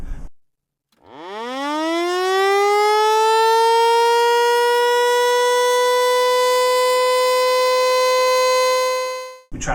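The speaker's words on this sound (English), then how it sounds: "If you hear the steady tone, that's the Vanderbilt tone" A Vanderbilt tornado siren winds up from silence into a loud, sustained steady tone that holds unwavering for several seconds before dropping off.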